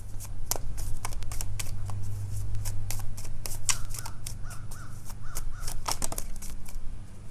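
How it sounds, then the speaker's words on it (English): Continuous brisk riffling and snapping of tarot cards being shuffled, close and steady, with a low hum in the background. "So we're going to go ahead and shuffle."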